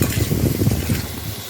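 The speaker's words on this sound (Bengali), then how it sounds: "নুন দিয়ে ভালো করে আলুটাকে ভেজে নিতে হবে।" Cut potatoes sizzle in hot oil with turmeric and salt as a utensil stirs them in a pan, giving a brief, close, continuous frying hiss with scraping strokes.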